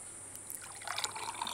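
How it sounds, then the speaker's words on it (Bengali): Mango buttermilk drink (aam ghol) poured into a glass, a faint, brief trickle and splash of liquid that picks up toward the end. "এবার আমি আমের ঘোলটা ঢেলে নেব।"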